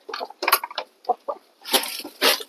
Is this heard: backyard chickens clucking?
yes